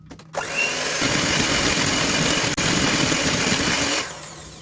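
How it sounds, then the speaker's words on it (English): A hand mixer whirs steadily while creaming butter for cake batter, a loud close motor drone that starts abruptly, holds for about four seconds with one tiny dip, then cuts off. "Your hand mixer basically aids your work."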